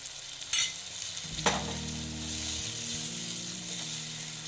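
Rinse water from a washed bowl poured into mustard-poppy paste frying in a pan for a rohu fish dish, a burst of splashing that settles into a steady, quiet sizzle.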